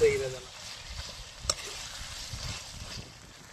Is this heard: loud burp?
no